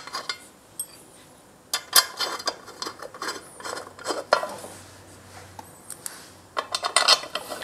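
Screws being worked on a Honda C90 Cub engine, giving irregular metallic clicks and ratcheting taps in scattered bursts, close up with no talking.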